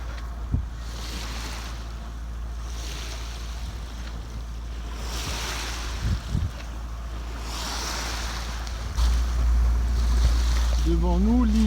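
Sailboat motoring under engine at sea near Rhodes, a steady low engine drone under washing waves and gusty wind noise, with a brief voice at the end.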